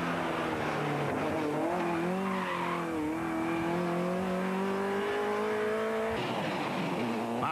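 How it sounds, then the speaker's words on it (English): A Mark II Ford Escort rally car races along a stage at the Monaghan Stages Rally, its engine revving and shifting through rising and falling pitch, with tires squealing and skidding as it passes close by. "Gary McPhillips and Mark Tierney, make a late charge but miss out on a class win by just 2 seconds to Robbie Peoples and Keith Stewart in their Mark II Escort."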